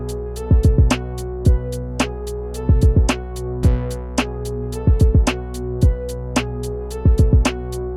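A punchy electronic beat built on an Ableton Move from sampled material, with a steady sustained pad and heavy kick and percussive hits in a repeating syncopated pattern, loud and close with no talking.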